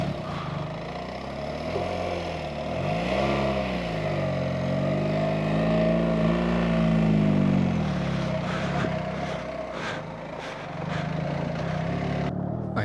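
BMW R1300GS motorcycle engine labouring up an off-road track, a steady close drone whose revs rise and fall repeatedly as the rider works the throttle, with wind and gravel noise and a few knocks near the end.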